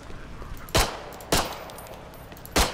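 Three sharp gunshots from the multiplayer zombie game Contagion ring out at irregular intervals, loud and close, over a faint low background.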